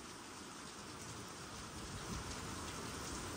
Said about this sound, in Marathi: लय भला मोठा पाऊस आला